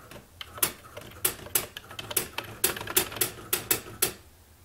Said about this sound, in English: Okay, we are typing.